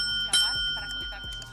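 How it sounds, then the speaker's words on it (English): A small hand bell rings out once, bright and close, its tone lingering briefly over a low room hum. "one of the easiest ways to get the attention just by using a little bell like this"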